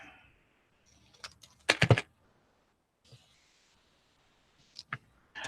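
Scissors cut a paper sentiment for a shabby chic fairy mini album, with a few faint snips and then a brief cluster of crisp, close cutting sounds amid quiet handling noises.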